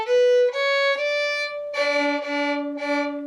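Fiddle bowing a slightly out-of-tune D octave, sustained bowed tones in a few strokes with a wavering, beating pitch, close and clear with no talking.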